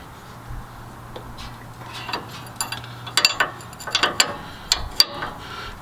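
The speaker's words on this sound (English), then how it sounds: "in order to get this tie rod end bolt off, I'm having to use an 8mm wrench and an 18mm wrench" An 8mm and an 18mm wrench work a tie rod end bolt loose on a Ford F-250 Super Duty during a leveling kit install. Close, irregular metallic clicks and ratcheting ticks come in short clusters over a faint background hum.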